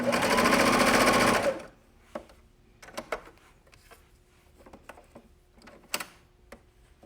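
Sewing a jersey seam, a sewing machine bursts into a loud rapid whir for about a second and a half, then stops, leaving quiet clicks and fabric handling.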